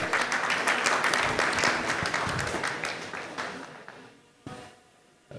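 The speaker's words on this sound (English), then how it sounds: "I request everyone to welcome him with a big round of applause." A conference audience in Nagpur applauds to welcome the chairman: dense, loud clapping fills the hall, then gradually thins and fades over the last few seconds.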